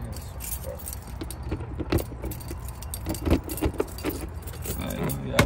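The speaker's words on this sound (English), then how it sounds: "So now the keys" Keys jangle in short metallic bursts near a Grey Wolf 26-foot bunkhouse RV trailer, with faint road or engine rumble underneath.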